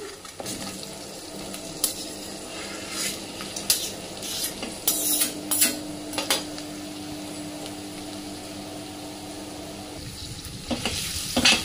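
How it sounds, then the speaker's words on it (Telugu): Beetroot pieces fry with softened onions in a pan, a steady sizzle that runs throughout, broken by scattered scrapes and clinks as they are stirred. "ఆనియన్స్ మగ్గాక ఇందులోకి బీట్రూట్ ముక్కలు వేసుకోవాలి."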